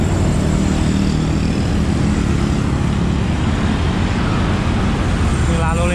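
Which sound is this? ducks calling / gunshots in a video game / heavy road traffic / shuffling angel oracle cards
heavy road traffic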